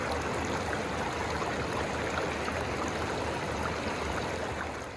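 Bear Creek along the John Muir Trail rushes in a continuous, even wash of flowing water, close and steady, with no voices over it.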